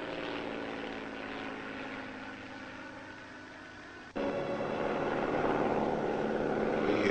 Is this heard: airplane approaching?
yes